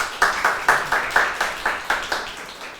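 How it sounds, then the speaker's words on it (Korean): A small audience at a lecture claps to welcome the speaker, a sparse, rhythmic run of about a dozen distinct claps at a moderate, even pace. "박수로 환영해 주십시오."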